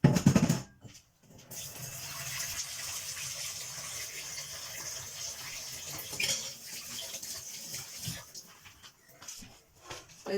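Kitchen tap running steadily during cookie baking as hands are washed, a faint, continuous gushing of water with a sharp start near the beginning and small fluctuations throughout, no voices.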